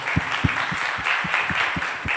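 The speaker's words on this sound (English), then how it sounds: "Round of applause for Sly." A crowd applauds steadily, with a dense wash of clapping and a few louder rhythmic claps standing out, no voices heard.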